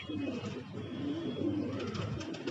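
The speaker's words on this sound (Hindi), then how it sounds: "देखिए आप रामपुर वाला कबूतर" Soft, repeated cooing of a Rampur pigeon close by, a low throaty murmur rising and falling over faint background noise.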